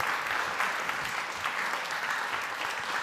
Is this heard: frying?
no